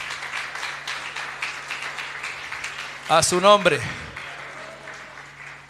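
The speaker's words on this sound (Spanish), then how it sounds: "Dele un aplauso al Señor." A brief burst of applause from a church congregation breaks out near, lasting under a second, between stretches of a preacher speaking over a steady low hum.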